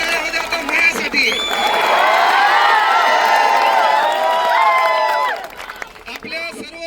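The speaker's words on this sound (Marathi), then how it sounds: "आणि टाळ्या वाजवा आता माझ्यासाठी." Crowd at a student protest rally in Sambhaji Nagar breaking into applause and cheering, a sustained swell of clapping and shouts that builds, holds for several seconds and fades, with talk around it.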